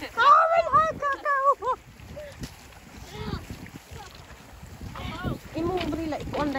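Wind buffets the microphone outdoors near water during a Holy Saturday gathering, with gusty low rumbles and several people talking and calling out over it.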